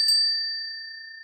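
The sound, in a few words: feng shui bell being rung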